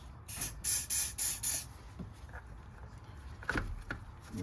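Silicone spray hisses from an aerosol can during battery replacement on a 2013 Honda Ridgeline, coming as several short close bursts in a row, followed by quieter handling clicks and shuffling.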